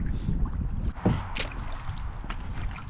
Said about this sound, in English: Paddling along the shoreline